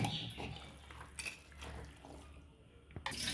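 A spoon stirring beef curry with salt and turmeric powder in a pot, giving close, soft scraping and clinking strokes.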